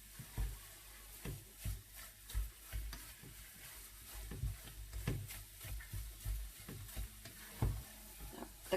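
Thick halwa, roasted until it looks like khoya, is stirred in a pan with rhythmic scraping strokes and a soft sizzle, close and fairly quiet, with no one speaking.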